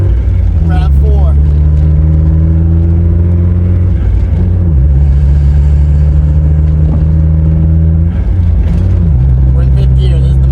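A Mazda Miata engine drones steadily at high revs in fifth gear, loud and close from inside the cabin, with the pitch sagging briefly twice before climbing again; voices talk over it at times.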